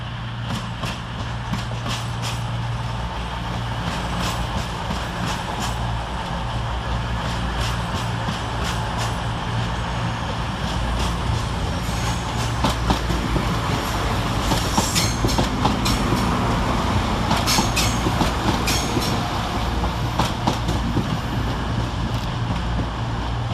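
Train arriving at Manchester Piccadilly railway station: Class 220 and 221 units rumble in steadily with a continuous clickety-clack of wheels over rail joints, close and loud throughout, with no talk.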